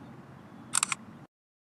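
An LG smartphone camera fires its shutter sound once while a photo is taken, a quick, clear burst of clicks standing out against a quiet room hum before the sound cuts off.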